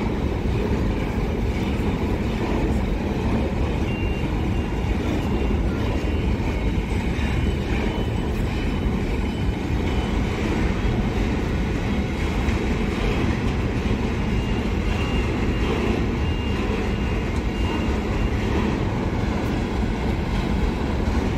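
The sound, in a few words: long freight train passing at Karlovo station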